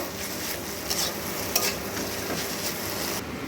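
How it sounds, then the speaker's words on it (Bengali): Chowmein being stirred and tossed in a pan with soy sauce and tomato sauce, a steady scraping stir over a soft sizzle, with a few sharper utensil knocks against the pan. "সয়া সসের ডবল দিয়ে দিচ্ছি টমেটো সস দিয়ে নাড়াচাড়া করে আবার এর সঙ্গে মিশিয়ে নেব"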